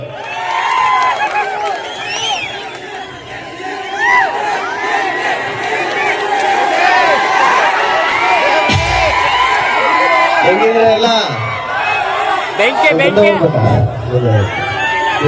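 A live stage audience cheers loudly, with whoops and shouting voices rising and falling as performers are welcomed on, a dense crowd roar filling the whole stretch.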